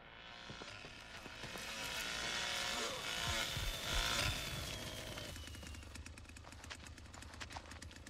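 A chainsaw revs in the Texas Chainsaw Massacre video game, a buzzing engine whine that swells and falls over several seconds amid clattering game noises, moderately close and without speech.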